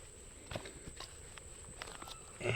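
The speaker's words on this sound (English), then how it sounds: "This is me walking as close as I can to the tree." Footsteps tread around the base of a huge cypress tree about 35 feet in circumference near swamp water, a few soft, uneven steps at moderate distance over quiet outdoor background.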